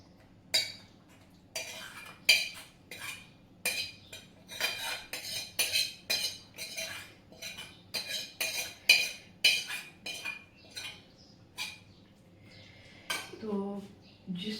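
Metal pots, a lota and utensils clatter and clink repeatedly as they are scrubbed clean by hand, a steady run of sharp, close metallic knocks and scrapes with brief pauses, no talking.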